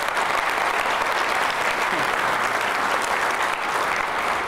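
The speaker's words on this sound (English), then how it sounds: "Let's give them a round of applause." Sustained, dense applause from a dinner audience at a city's State of the City event, loud and steady throughout with no break.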